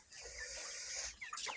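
Broiler chickens on a poultry farm cluck and chirp in a faint, steady chorus, with a few sharper calls rising near the end.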